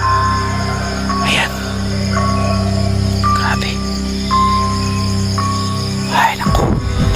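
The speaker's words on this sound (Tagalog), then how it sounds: "At puro kuliglig lang po talaga yung maririnig natin dito." Crickets chirp steadily in a pitch-dark forest at night, a constant trill with faint tonal pulses, while a person speaks briefly near the end.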